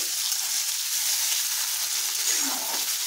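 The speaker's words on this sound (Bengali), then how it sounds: "গাজরটা প্রথমে ভেজে নিচ্ছি।" Carrots frying in a pan for mixed vegetables, a steady close hiss of sizzling oil running unbroken and alone throughout.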